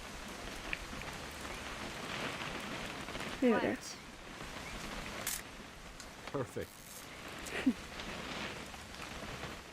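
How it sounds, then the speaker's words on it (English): Steady rain falls throughout a scene in the video game What Remains of Edith Finch, a soft continuous hiss with a few brief voices talking over it. "It's gonna rain the whole weekend, isn't it?"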